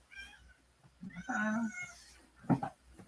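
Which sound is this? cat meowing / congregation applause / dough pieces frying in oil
cat meowing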